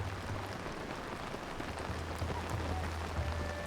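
Steady rain hisses down in Zelda: Tears of the Kingdom, a dense even wash with no voices over it.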